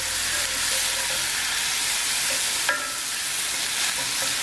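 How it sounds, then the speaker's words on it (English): Onions sautéing in a pan for a Cajun dish give off a steady, loud broadband sizzle, with occasional stirring clinks and scrapes and no voices. "Get our onions cooked up a little bit."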